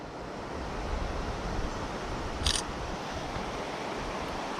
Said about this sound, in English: Wind is horrible.